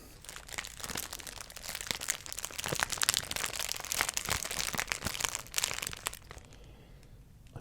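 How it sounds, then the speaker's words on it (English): Continuous crinkling and crunching of plastic bags around a bottle, close and fairly steady, with sharp crackles throughout before quieting near the end. "a plastic bag within a plastic bag with a plastic bottle inside that"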